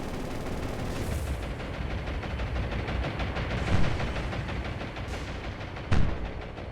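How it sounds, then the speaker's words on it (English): 20mm cannon fire in a naval combat game sounds as rapid, dense bursts over a rumbling backdrop, with a couple of louder sharp impacts near the end and no speech. "20mm cannon fire, I don't think would be that effective against the destroyer."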